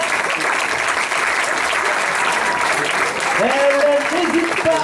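A crowd applauds continuously at a gathering, sustained dense clapping at an even level, with a voice rising over it near the end.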